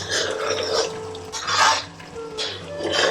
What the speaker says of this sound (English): So I'm just going to stir that through.